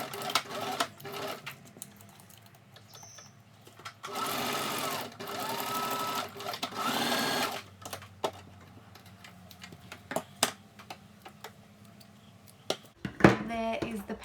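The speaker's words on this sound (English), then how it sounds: "So using your sewing machine, you're going to just stitch down the side." A sewing machine stitching down the side of paper ruffles runs in a steady buzzing burst for a few seconds, with brief starts and stops around it and someone talking quietly between runs.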